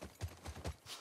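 Horse hooves clip-clopping in The Last of Us Part II, several quick close steps in an uneven walking rhythm, heard alone without talk.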